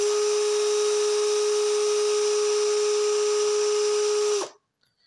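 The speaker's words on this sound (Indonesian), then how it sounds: "Pertama kita uji di kecepatan nomor 1," A Sunc 36VF cordless drill runs at speed setting 1 in drilling mode, a loud, steady high-pitched motor whine that holds for about four and a half seconds and then cuts off abruptly into silence.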